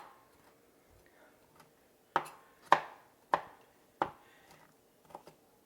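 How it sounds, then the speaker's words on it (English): A very sharp knife chops broccoli on a board: four crisp, close strikes in an uneven rhythm, then two softer taps near the end, separated by quiet gaps. "we're going to start cutting our broccoli"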